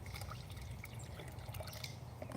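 Water, left out overnight to dechlorinate, trickles and pours steadily into a bucket on a suburban homestead, a continuous close splashing stream with no talk over it.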